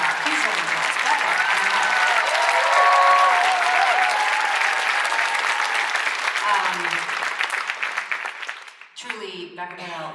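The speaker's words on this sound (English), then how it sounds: "So a massive round of applause for our friend from America" A concert crowd at Mattamy Theatre in Milton, Ontario, during a show gives sustained, loud applause with scattered cheers, which tapers off before a voice begins speaking at the end.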